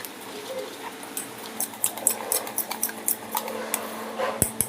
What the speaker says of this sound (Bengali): দিয়ে এটা গুলে নেব আমি জল দিয়ে